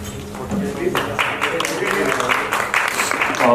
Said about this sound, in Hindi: बहुत जोरदार तालियां हो मनु सर।